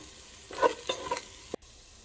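Ivy gourd fry with chilli powder stirred in a pan, a brief burst of a few scraping stirs over a soft sizzle, close and fairly quiet.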